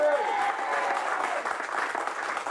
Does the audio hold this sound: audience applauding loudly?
yes